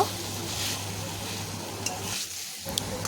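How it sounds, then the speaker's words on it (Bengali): Fried potato and soybean chunks being stirred into a spice masala in a pan, with a steady low sizzle and soft scraping of stirring throughout, briefly quieting near the end. "এই সময় আমি দিয়ে দেব ভেজে রাখা আলু আর সয়াবিনের টুকরোগুলো। সয়াবিনের সাথেও মশলাটা খুব ভালো করে মিশিয়ে নেব।"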